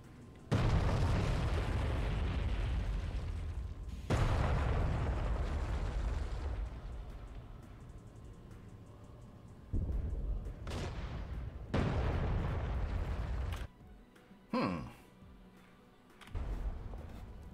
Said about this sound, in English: it really has the feel of artillery and not tanks shooting each other